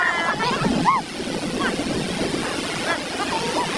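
Strong typhoon wind roars at landfall in Camarines Norte, Philippines, a loud, steady rush that buffets the microphone, with brief shouting voices over it.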